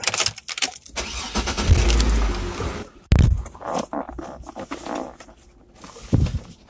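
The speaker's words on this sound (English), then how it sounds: "let me start this car." A car engine starts: a loud surge of cranking builds and the engine catches, followed by a sharp burst and uneven revving with a few rustling knocks nearby.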